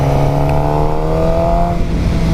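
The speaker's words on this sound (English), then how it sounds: "the 750s, you guys, sound different than other motorcycles" A 2018 Suzuki GSX-R 750 motorcycle engine hums close up at a steady pitch, then its tone drops briefly near the end, with no talk.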